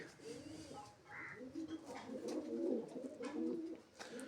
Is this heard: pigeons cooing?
yes